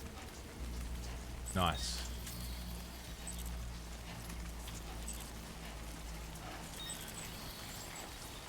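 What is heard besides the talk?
timefall rain in video game Death Stranding 2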